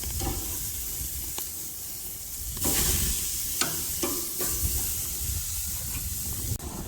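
Carne asada flipped on a propane grill sizzles in a steady, close hiss, with a few sharp clicks and scrapes as the meat is turned and a brief louder surge of frying.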